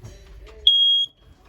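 A smoke detector alarm inside a 2010 Puma RV gives one short, loud, piercing electronic beep that lasts about a third of a second, with faint room noise before and after.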